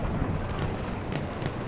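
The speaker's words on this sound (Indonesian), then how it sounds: "Ada kuda." Horse hooves galloping in Battlefield 1 gameplay, a rapid clip-clop rhythm half buried in dense battle noise, faint and continuous with a voice talking briefly.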